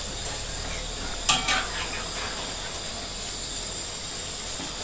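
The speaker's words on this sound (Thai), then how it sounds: "ผมคอยให้น้ำเดือดก่อนนะครับ" A pot of water heats toward a boil for cooking, giving a steady, soft hiss with a brief clink near the start.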